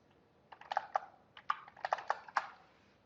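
Someone types on a computer keyboard while drawing in AutoCAD, producing a short, faint run of about a dozen crisp, close keystrokes in an irregular rhythm.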